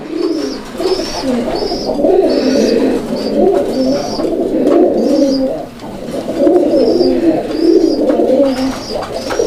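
A pair of pigeons coos steadily at close range, the low throaty calls rolling in repeated overlapping phrases throughout, loud and clear with no talking.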